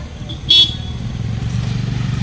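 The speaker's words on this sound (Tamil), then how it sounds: "வண்டி வருதுப்பா பார்த்து விளையாடுங்க" A motor vehicle rumbles steadily nearby while a single short horn toot sounds early on, the engine drone continuing and growing slightly after it, with no clear talking.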